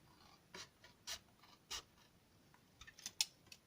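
Scissors cutting a 10 cm fabric circle in half for a scrap bag, heard as a few soft, separate snips and rasps spaced out over a few seconds, close and quiet with no talking.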